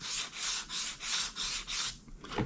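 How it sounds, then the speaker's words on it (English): Block sanding dirt bike plastics by hand with 400 grit paper on a foam block: steady rhythmic back-and-forth rasping strokes, about six even passes, close and clear, trailing off at the end. "Now it's time for the tedious task of block sanding everything."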